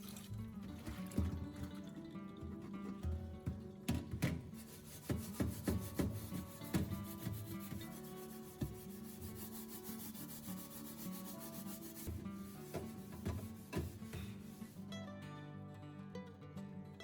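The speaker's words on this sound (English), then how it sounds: "just use a metal scrubber or a wire brush to scrub evenly across the surface, and most of the burnt residue can be removed." Metal scrubber or wire brush scraping burnt residue off oven parts, a steady close rubbing with repeated rough strokes and short bursts throughout, no talking.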